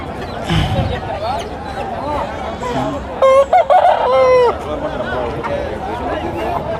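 A rooster crows loudly mid-clip amid hens clucking and a busy hubbub of people talking nearby at a country chicken market.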